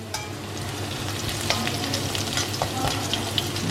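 Chopped ginger, green chilies, clove, garlic, cinnamon stick and bay leaves fry in hot oil in a pan, with a steady close sizzle, scattered crackles and pops, and the faint scrape of stirring.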